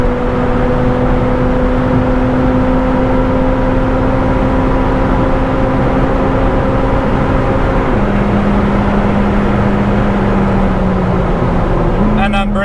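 A McLaren 765LT engine revs hard at high RPM on the Autobahn, producing a loud continuous drone whose pitch steps down with gear changes, under a constant rush of road and wind noise.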